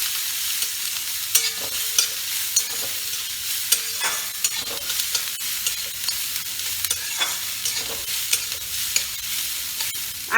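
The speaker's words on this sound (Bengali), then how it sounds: "এটাই আসল মশলাটা কষা।" Spice masala is sautéed in a pan for a Bengali shol fish curry, a steady crackling sizzle broken by frequent sharp spatula scrapes and knocks, close up, with no voices.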